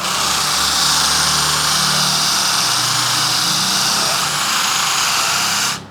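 An NRT PRO cordless variable-speed power tool runs steadily at its lowest speed setting, around 2500 RPM, a continuous high whine and buzz that holds for several seconds, then cuts off abruptly near the end.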